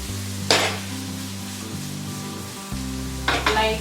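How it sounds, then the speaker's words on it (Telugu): Chapati noodles and vegetables sizzle and crackle in a hot pan, with two bursts of louder stir-fry sizzling and scraping over a steady low kitchen hum. "లైట్గా స్టిర్ చేస్తుంటూ స్టిర్ ఫ్రై చేయాలండి వీటిని"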